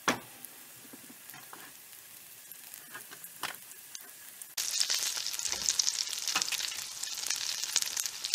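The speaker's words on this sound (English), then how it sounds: "I'm going to place them in my skillet and cook them up" Plant-based sausages fry in olive oil in a skillet, giving a soft, steady sizzle with scattered pops. The sizzle jumps noticeably louder and brighter about halfway through and stays up close and constant after that.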